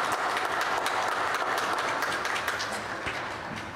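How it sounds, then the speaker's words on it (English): A church congregation applauds during a Sunday service, a dense, steady patter of clapping lasting a few seconds and fading slightly at the end. "let's give Leander a good welcome round of applause."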